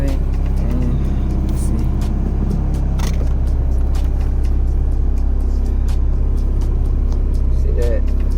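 A tuned car engine idles at a steady low rumble close by, and a voice speaks briefly over it near the start.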